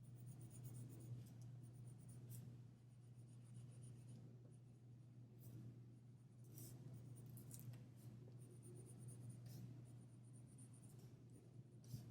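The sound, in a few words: pencil drawing on paper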